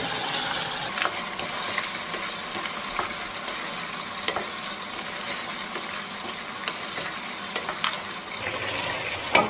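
Spices stirred into a sizzling lamb and cabbage curry in a pan: steady frying crackle with repeated scraping stir strokes, close and moderately loud, without talk.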